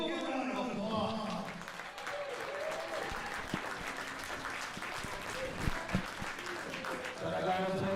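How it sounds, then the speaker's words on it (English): Audience applause at a Cen-Cal Pro event, steady dense clapping filling the space and swelling again at the end, with a voice speaking over it. "give them a round of applause"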